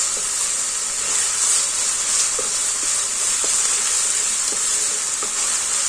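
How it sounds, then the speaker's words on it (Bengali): Garlic fries in hot oil with a loud, continuous hissing sizzle, close and steady throughout, and a few light clicks of a stirring utensil, with no voices. "এই রসুনটা দিলে তেলের মধ্যে খুব সুন্দর একটা গন্ধ হয়।"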